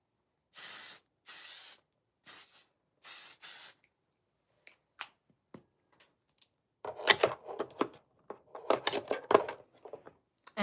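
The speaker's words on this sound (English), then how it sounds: "Okay, let's do setting spray." Four separate bursts from an L'Oreal Continuous Setting Spray bottle hiss close to the microphone, followed by quieter clicks, taps and rustling from makeup handling, with no talking.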